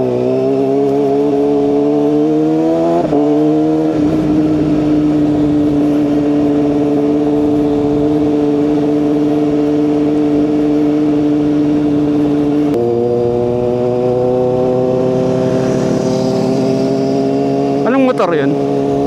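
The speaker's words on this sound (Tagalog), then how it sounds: "Itong motor ko ay napakaingay kaya lagi akong sumisigaw." A loud motorcycle engine in the Philippines runs steadily and close, its drone rising in pitch during revs early and late, under continuous talk throughout.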